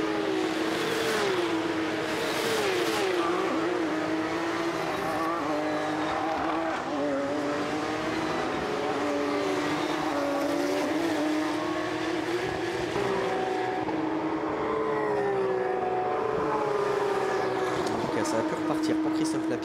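Porsche Carrera Cup race cars scream around the Imola circuit, engines rising and falling through gear changes in a continuous, layered roar, with a commentator talking over the pack throughout.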